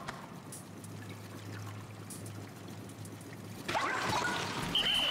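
Flowing water in the Pikmin 4 video game, a soft steady trickle and stream that turns louder and brighter partway through, with small chime-like game tones appearing toward the end.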